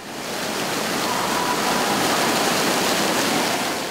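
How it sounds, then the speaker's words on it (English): Hundreds of thousands of gallons of moving water at an indoor water park resort in Grapevine, Texas, make a loud, steady rushing roar like a waterfall that stays even throughout, with no voices. "This place is replete with hundreds of thousands of gallons of water that seemingly stay in motion."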